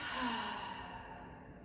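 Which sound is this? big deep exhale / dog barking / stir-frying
big deep exhale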